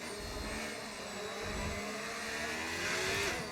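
Race car engines at Monaco in a racing video game drone and whine steadily at low game volume, a continuous buzzing engine tone that rises slightly toward the end with no talking.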